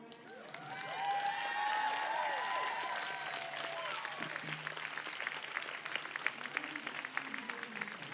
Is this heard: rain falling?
no